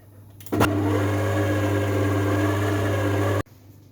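An electric mixer creams sugar and butter together for a vegan, low-sugar fruit cake, starting abruptly into a steady loud whirring drone for about three seconds before cutting off.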